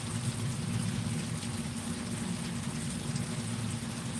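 Water pours steadily through a gold sluice with matting, a loud, constant rushing and gurgling that holds unbroken throughout, with no voices.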